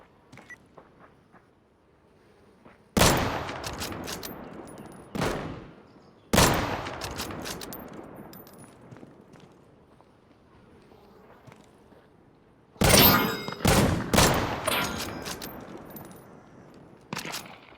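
Mosin bolt-action rifle shots in the survival shooter Deadside ring out as sharp, loud single cracks several seconds apart. Each crack trails a long echoing decay, and a quick cluster of shots comes near the end.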